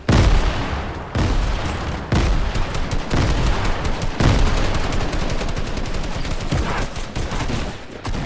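Rapid bursts of gunfire in the video game Fortnite, loud and dense, with sharp shot onsets repeating roughly every second over a sustained crackling barrage and no talk.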